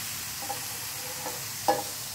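Grated carrots for gajar halwa cook in hot ghee, a soft, even sizzle broken by a few light stirring clinks, the last one louder, with no speech.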